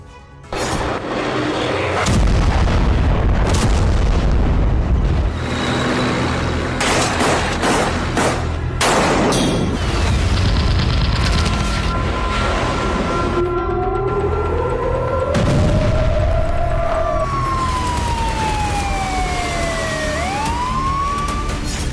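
Heavy explosions and artillery fire from a war zone of air strikes and shelling: loud, repeated booming blasts with broadband crashes, and wailing, rising and falling siren-like tones in the second half.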